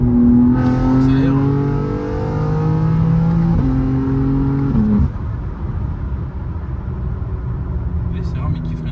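A BMW M3 G80 xDrive fitted with a downpipe and engine map accelerating hard, a loud metallic, motorcycle-like rising tone through several gear shifts before easing off, with a voice talking over the engine.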